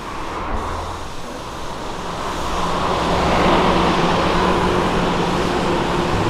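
Audi RSQ8 driving past in street traffic, a steady broadband road rumble that swells over a few seconds as the car nears, with low engine drone beneath and no talking.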